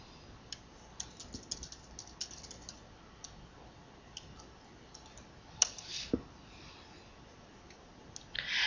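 A computer mouse clicks sharply and close up in scattered single taps, with a few faint keyboard-like ticks among them, over a quiet room hum and with no one talking.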